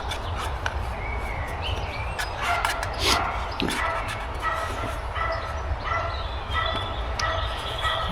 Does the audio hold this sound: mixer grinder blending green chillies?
no